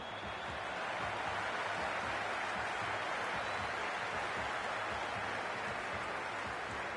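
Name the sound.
stadium crowd cheering in video game Cricket 26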